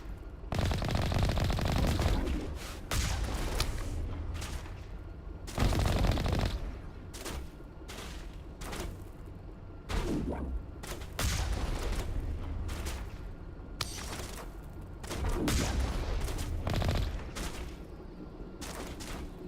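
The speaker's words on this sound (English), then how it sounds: "I have a long-distance cannon that seems to be very effective at dealing with your garbage" Bursts of rapid heavy gunfire from a long-range cannon in the game Mass Effect, loud volleys repeating in short clusters separated by brief gaps.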